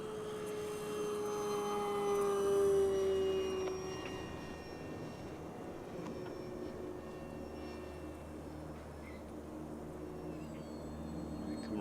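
FMS 1220mm Ranger RC plane at full throttle on a high-speed downwind pass, its steady electric motor whine loudest in the first four seconds, then fading into a continuous distant drone.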